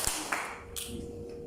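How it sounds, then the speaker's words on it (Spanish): An audience claps once together, a short sharp burst of clapping followed by a few scattered later claps in a room. "A la cuenta de 3, todos aplaudimos una sola vez"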